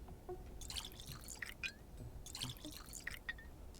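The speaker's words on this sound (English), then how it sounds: "Oh, I can fill up my water here." Water running and dripping from a source in the game Pathologic 2, a quiet, close trickle with bright splashy drips in two bursts and nobody speaking.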